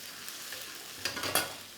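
Malaysian spicy shrimp sauce bubbling and sizzling in a pan, a steady soft hiss with a few louder pops and stirring scrapes near the end.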